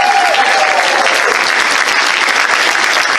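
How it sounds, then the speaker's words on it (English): A comedy festival crowd applauds itself after hearing about money raised for charity, a loud, dense, steady wash of many hands clapping close and continuous throughout, with a few cheers mixed in. "Give yourselves a round of applause."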